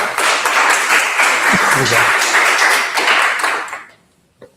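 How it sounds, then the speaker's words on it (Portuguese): Audience applause welcoming a priest at a theology talk: a dense, steady wash of many hands clapping that fades away near the end, with a brief spoken word over it. "Salve de palmas para o nosso."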